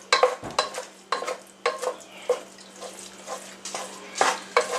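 Hamburger meat cooks in a pan for Italian sauce, a soft steady sizzle beneath repeated scraping and clinking strokes of a utensil stirring against the pan, close and fairly quiet.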